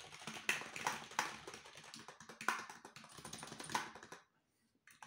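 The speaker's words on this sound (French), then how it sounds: "ça fait le même bruit qu'un clavier classique" Close, fairly quiet clicking of keys on a computer keyboard sold as silent, in an irregular typing rhythm, with a few sharper key strikes, then a pause.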